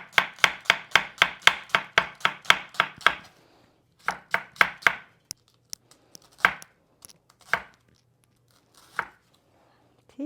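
A knife chops onion on a board for Pakistani haleem: a quick, steady run of about a dozen crisp, close chops, then a short pause and a few more, slowing to sparse, isolated cuts.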